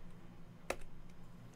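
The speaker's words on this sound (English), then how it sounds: "maybe I should type one more line" A single crisp keystroke on a computer keyboard lands once at close range over a faint steady room hum, with no talking.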